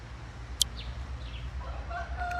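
A rooster crows faintly in the distance, a drawn-out call rising late in the clip over a steady low rumble, with a brief sharp sound just before it and no speech.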